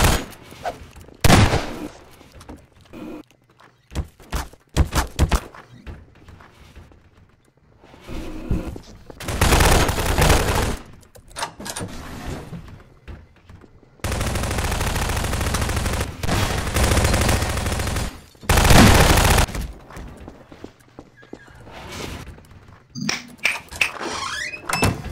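Gunfire in a Garry's Mod Prop Hunt round: scattered single shots and short bursts, with two long sustained volleys in the middle, loud and close over game noise.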